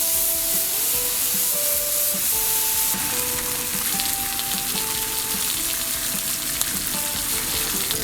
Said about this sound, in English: we're gonna go ahead and grease this up with some bacon fat